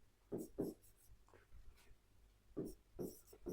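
A pen writes out a math solution, close and quiet. Scratchy strokes come in short bursts with brief pauses between them, and no speech can be heard.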